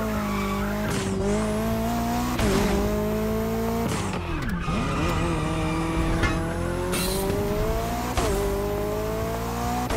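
Car in the racing video game The Crew Motorfest driving hard, engine droning and shifting pitch with repeated loud tire squeals and skids through corners, continuous and close with game music underneath.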